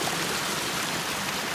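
A stream of water runs down a staircase pathway outdoors, making a loud, steady rushing and splashing flow with no break and no voices.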